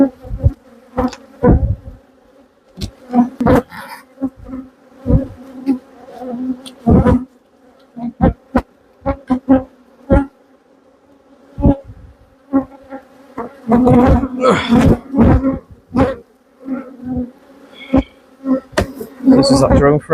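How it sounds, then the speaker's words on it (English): Honey bees buzz and drone around the hive boxes of a quarantine apiary, loud and close, with repeated sharp fly-by swells as individual bees pass near and steady humming between them. "Don't worry about the bees at the front."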